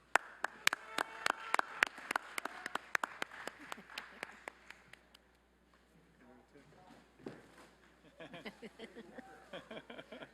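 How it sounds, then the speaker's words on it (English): At a university commencement ceremony, a crowd claps in a brisk burst of sharp, close handclaps that thins out, followed by someone speaking over a public address system. "How about another round of applause there for our doctoral?"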